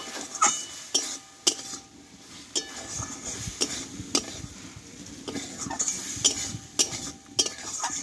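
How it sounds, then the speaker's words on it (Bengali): Spice masala with chopped coriander leaves stirred in a pan, with a run of sharp, regular metal spoon clinks and scrapes against the pan over a faint sizzle, close and without talk. "আর এই কেটে রাখা কিছুটা ধনে পাতা দিয়ে দেবো। দিয়ে আরও আমি 1 মিনিট মতো কষিয়ে নেব"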